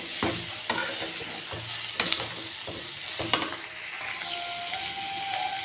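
Taro stems (kochur loti) are mixed in a frying pan with a sizzle underneath and repeated close scraping and clattering strokes of a spoon against the pan. No one speaks.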